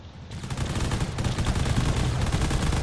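Cannon fire from a long-range frigate in the video game Drone Wars rumbles in a dense, continuous barrage of heavy booms. It is loud, with overlapping shots blending into a steady roar.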